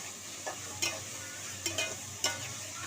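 Dried fish and tomato sauté in oil with a low, quiet sizzle, broken by several sharp spatula scrapes and stirring clacks spaced irregularly; the sound is close, with no talking.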